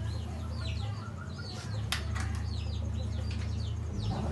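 Hen clucking in low repeated calls as she is lifted out of a large backyard coop with her nest, with brief wing flaps and rustling, heard close and moderately loud.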